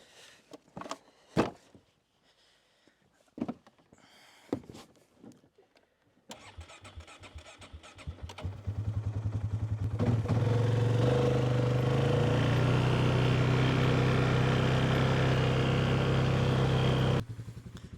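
A Polaris Sportsman 570 ATV cranks and fires up after a few quiet clicks and handling noises, then settles into a loud, steady, close engine idle and drive that holds for several seconds before abruptly cutting off.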